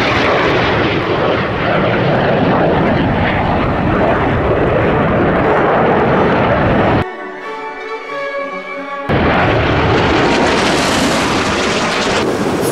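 Loud, continuous roar of six Blue Angels jets flying in formation close overhead at an air show in Melbourne, with a brief quieter break midway before the roar resumes.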